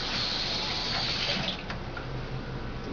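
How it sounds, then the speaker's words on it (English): A kitchen tap runs steadily into a sink while a juicer cloth is rinsed, a close, even hiss and splash of flowing water with no talk. "I'm going to rinse that off."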